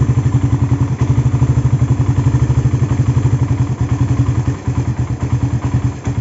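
A Suzuki Satria FU motorcycle engine with an oversize Tiger piston runs at a rough, uneven idle, its loud rapid firing pulses close and continuous with brief dips in rhythm.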